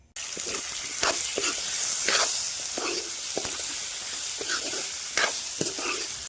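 Oil crackles and sizzles steadily in a pan as spices are tempered for a vegetable curry, with occasional sharper pops and brief stirring clatters throughout.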